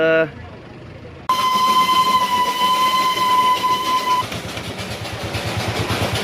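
A Darjeeling mail-carrying train passes close by with loud rumbling and clattering wagons, a sustained whistle-like tone ringing for about three seconds, then fading into rhythmic rail clatter.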